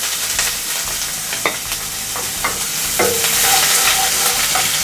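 Chopped onion frying and sizzling in hot oil in a pan, with steady loud sizzle and occasional stirring scrapes, no talk.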